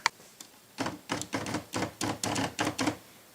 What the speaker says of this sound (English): You can do line feed, which moves it one at a time